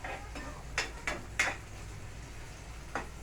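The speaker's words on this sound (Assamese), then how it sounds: "এনেকৈ বহুত পৰলৈকে লৰাই থাকিব, কিয়নো ধৰি যোৱাৰ সম্ভাৱনাটো বেছি থাকে হাই ফ্লেমত" A utensil stirs onions in a pan over high flame for a pig and bamboo dish: a handful of short, sharp scrapes and clinks spaced irregularly, quiet and close, with no talking.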